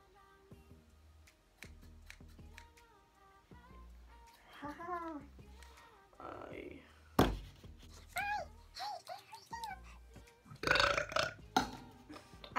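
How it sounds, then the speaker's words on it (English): Several loud, drawn-out burps rumble out one after another, interspersed with brief vocal noises and scattered clicks and thumps nearby, recorded close and fairly quiet overall. "I love burping."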